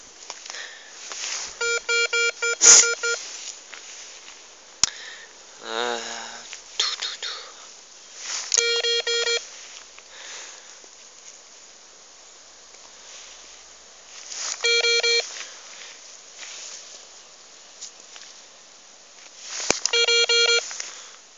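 A metal detector sounds over a buried target during an outdoor dig: harmonic electronic tones come in several short bursts spread across the clip, with quiet murmured speech and faint handling noises between them.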